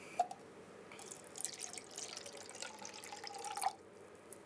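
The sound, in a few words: pouring a quarter cup of water into slime mix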